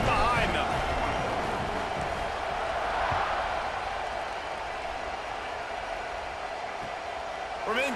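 Stadium crowd roaring in a college football video game, Ole Miss at Mississippi State, a broad steady wash of cheering held for several seconds with a game commentator talking over it.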